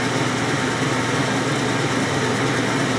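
Honing machine working the bore of a GM connecting rod for a 454 big-block Chevy build, giving a steady, even mechanical whir and hum at close range, with no pauses or talk.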